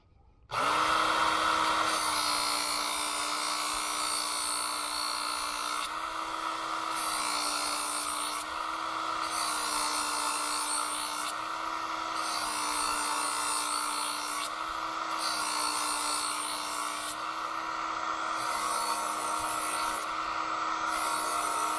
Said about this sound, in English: your belt exposed on this side with your little knife guides, that's going to create that 20-degree bevel on each side of the blade